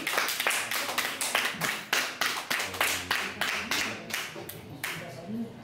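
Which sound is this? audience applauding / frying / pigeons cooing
audience applauding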